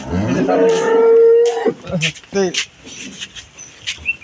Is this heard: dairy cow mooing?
yes